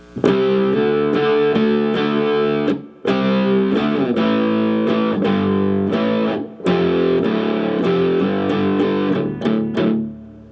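Heavily distorted electric guitar plays a palm-muted main riff in tight, chugging bursts, loud and close, with two brief stops between phrases and no voices.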